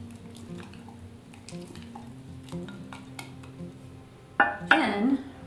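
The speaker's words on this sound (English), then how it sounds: "stir up the starter a little bit" Sourdough starter is stirred in a jar, with light clinks and soft scrapes of a utensil against glass, close and quiet, ending in a louder, brighter clatter.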